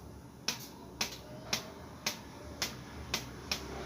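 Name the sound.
plucking 1-2-3 manjha kite string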